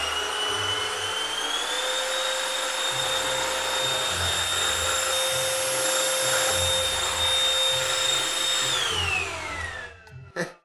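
A vacuum cleaner sucks air with a loud, steady whine and roar that holds for about nine seconds, then winds down and cuts off, with no talk over it.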